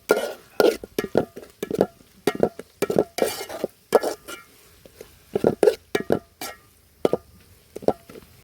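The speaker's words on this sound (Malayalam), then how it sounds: "എന്നിട്ട് അങ്ങോട്ട് ഇളക്കുക." Ginger garlic paste is stirred into a pot of chicken curry with a spoon, giving a quick series of irregular scraping clanks and soft wet plops against the metal, close and loud, with no talking.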